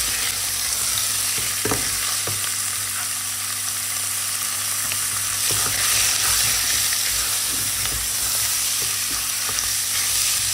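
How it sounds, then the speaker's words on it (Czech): Pork frying in a pan for risotto crackles with a continuous, even sizzle, punctuated by occasional clicks and scrapes of stirring, with no talking. "takže tam přidám to maso, co tady mám připravený. Zase to opeču."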